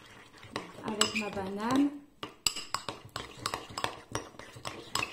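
A tablespoon stirs a banana breakfast mix in a bowl, clinking and scraping against the sides in a quick run of sharp taps, while someone speaks in French at the start.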